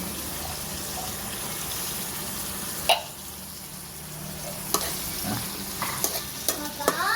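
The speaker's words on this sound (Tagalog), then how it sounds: "Halo-haloin lang. Haluin lang." Valenciana rice with green peas is stirred in a pan over a low background sizzle, with a sharp scrape partway through and several quick spoon clanks and scrapes clustering near the end.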